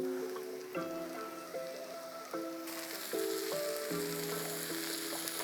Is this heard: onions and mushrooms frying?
yes